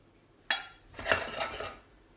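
Tomato sauce being tipped into a bigger pan for meatball and basil linguine, a sharp metal clink followed by a brief wet slide and pour, close and short.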